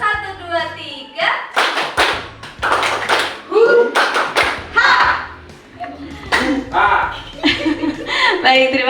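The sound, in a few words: audience doing clap pattern one, two, three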